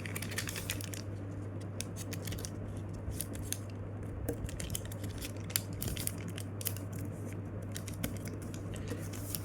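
Paper being creased and folded into an origami jet gives close, quiet crinkles and sharp papery ticks scattered over a low steady hum, with no speech.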